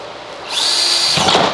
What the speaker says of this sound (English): go ahead and drill a nice clean hole